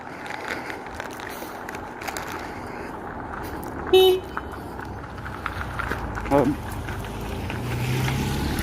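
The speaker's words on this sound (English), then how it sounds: "Has to come up right behind me and beep." A car coming up close behind honks a short, sharp beep, with a second briefer toot a couple of seconds later, heard over the low rumble of a car on the road.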